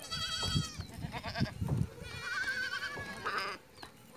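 Goats of a Bakarwal herding family bleat repeatedly and close by, several wavering overlapping calls in quick succession, with no talking over them.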